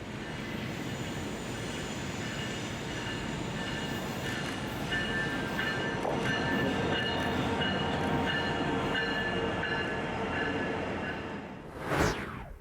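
A Norfolk Southern SD60E diesel locomotive, the first responder veterans unit, rolls past in Indiana with a loud, steady rumble and rail noise that continues throughout. A brief sharp rising squeal cuts in near the end.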